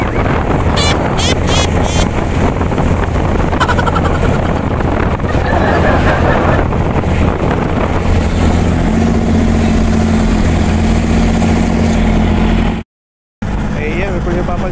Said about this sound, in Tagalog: kung napapansin nyo, palaki ng palaki mga alon, pati hampas ng hangin, sobrang lalakas na